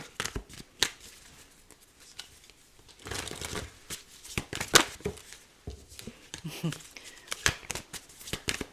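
A deck of tarot cards is handled at close range: papery riffling and shuffling bursts, card slaps, and quieter stretches in between, with light rustling as cards are drawn.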